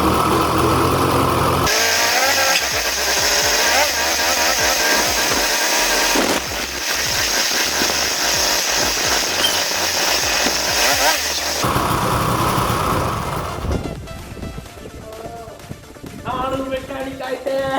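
A restored Rajdoot 175 motorcycle engine fires up and runs with a loud, rattling two-stroke buzz, broken by cuts between takes, with music or voices in the background.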